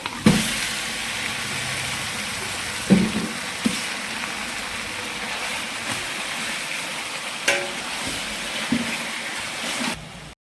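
Marinated chicken, soaked overnight, goes into a hot pan and sautés with a loud, steady broadband sizzle, broken by a few sharp clanks and knocks from stirring.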